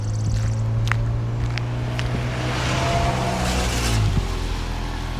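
A car approaches and drives past near a pond with geese and ducks at a park by a waterfall, a steady broadband road rumble swelling over about five seconds outdoors.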